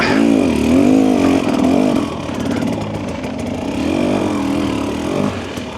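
A 2025 Husqvarna TE300 two-stroke dirt bike engine revving and surging loudly up close during a muddy trail ride, its pitch rising and falling in waves as the throttle opens and eases.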